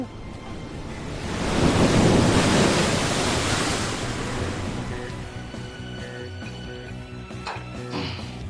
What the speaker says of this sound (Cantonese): 海が潮吹き、波が荒れくる